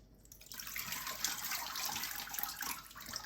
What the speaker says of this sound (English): Let the excess water drain out.